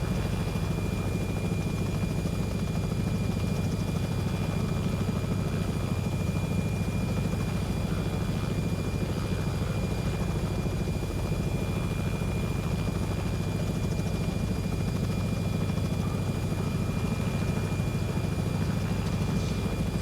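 A Robinson R66 helicopter flying in the flight simulator X-Plane 11, giving a steady, unbroken rotor and turbine drone at constant loudness throughout, close and even, with no talking.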